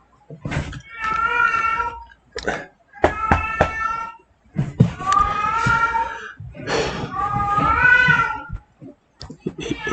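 A cat meows repeatedly in a room, loud and close, with a series of drawn-out, wavering cries separated by short pauses.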